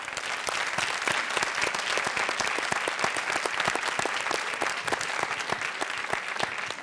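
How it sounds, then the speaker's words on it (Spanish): Dense, loud applause from a television variety-show studio audience, a continuous roar of many hands clapping close by for nearly seven seconds, with no voices above it. "Nuestro aplauso para recibir a Neida Sandoval."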